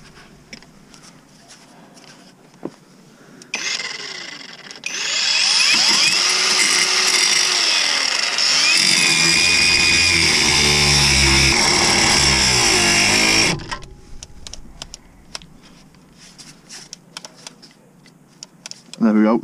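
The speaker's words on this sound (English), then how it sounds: "and just grind it off." A cordless angle grinder cutting off the track rod end on a 1999 Honda Civic spins up loud and grinds continuously through metal for about nine seconds, then winds down, with clinks and handling noise before and after.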